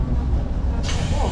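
A tram in Vinnytsia, Ukraine rumbles heavily from inside the car, then a hiss and squeal come up near the end, with a voice talking under the noise.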